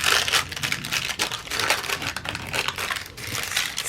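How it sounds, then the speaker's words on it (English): Paper ripped by hand for a mixed-media art journal pocket, a continuous close crinkly tearing and crumpling that runs without pause. "let's just go ahead and rip this"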